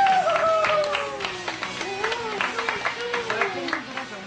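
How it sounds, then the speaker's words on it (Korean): Studio audience applauding prize winners on a Korean music television show, a spatter of claps running under overlapping voices and cheering throughout. "당첨되신 모든 분들께 축하의 박수 한번."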